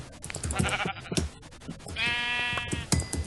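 A single drawn-out sheep bleat from Minecraft, wavering for about a second, with scattered clicks and game sounds around it.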